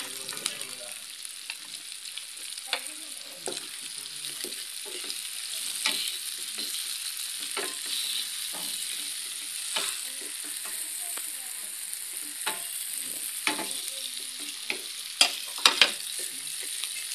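Chopped ginger sizzles steadily in a hot pan for Filipino squid adobo, with a continuous bright frying hiss broken by frequent scraping stirs and a few sharper clatters near the end, no talking.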